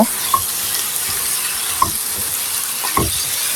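Pumpkin pieces being stirred with ground spices in a frying pan, giving a steady soft sizzle broken by a few sharp scraping clicks of the spoon against the pan.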